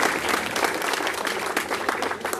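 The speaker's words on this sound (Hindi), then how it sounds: "इसके लिए जोरदार ताली से अभिनंदन किया जाए" Loud, enthusiastic clapping from an audience at a Republic Day celebration, a dense continuous burst that holds steady throughout.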